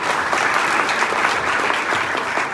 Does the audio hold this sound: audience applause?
yes